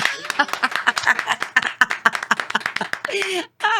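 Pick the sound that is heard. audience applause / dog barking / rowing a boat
audience applause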